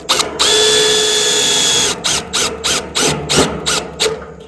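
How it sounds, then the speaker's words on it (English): A cordless drill fitted with a 5/16 nut driver bit drives self-tapping screws into a steel drum barrel for a smoker build, one long steady whirring run followed by several short, sharp bursts as the screw seats, close and loud. "this drill has a 5/16 nut driver bit on it. And we're just gonna go ahead and ram home the first one up top here"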